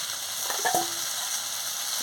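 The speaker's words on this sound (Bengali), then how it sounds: "ঢাকাটা খুলে নিয়ে ভালো করে আমি ভেজে নিচ্ছি" Neem leaves fry in a pan, a steady soft sizzle with a brief clatter of stirring near the middle, close and moderately loud, no voices.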